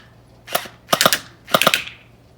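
Gel ball blaster shots strike a target at close range: three sharp bursts of rapid snapping pops, one after another, with no voices.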